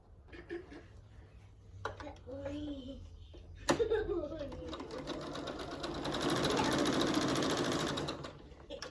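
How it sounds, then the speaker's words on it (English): A domestic sewing machine stitches quilt binding from one corner to the other, its fast steady needle chatter building and then holding loud and close near the end, with a voice talking briefly before the run. "we're going to sew from this corner to this corner"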